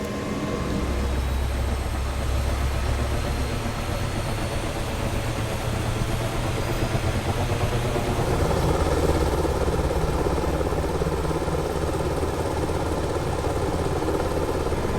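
A search-and-rescue helicopter's engine starting up, a steady turbine whine and low rumble that shifts and grows fuller partway through, loud and continuous with no talk.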